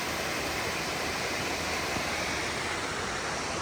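Waterfall in Ohio beneath high rock walls, a steady broadband rushing roar with no breaks, heard alone and fairly close.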